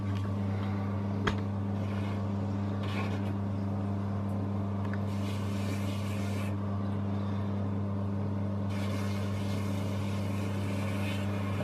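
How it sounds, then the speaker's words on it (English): A Tormek T7 sharpener runs with a steady low motor hum while paste is worked onto its leather honing wheel, bringing soft hissing rubs in two stretches over the drone. "I'm just running some paste along the honing wheel"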